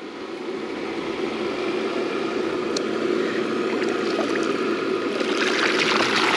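An old pump shoots a steady stream of water into a stock tank pool on a homestead, a continuous close rushing splash that holds level throughout and brightens with extra spray near the end.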